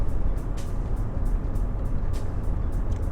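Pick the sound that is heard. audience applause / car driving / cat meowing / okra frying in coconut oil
car driving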